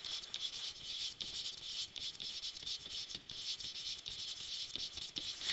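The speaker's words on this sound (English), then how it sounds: "Let's write that down." Steady scratching of a pen or marker writing on a board during a math lesson, quiet and close, in short rubbing strokes with brief pauses and no speech.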